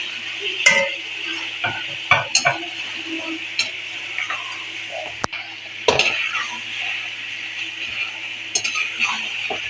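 Tender beef being stirred into masala in a pot for qalandari pulao: scattered scrapes and metallic clinks of a spoon against the pan over a faint background sizzle, with occasional louder knocks.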